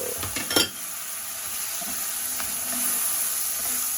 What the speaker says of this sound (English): I'm going to go right in with the red carrots, star of the show.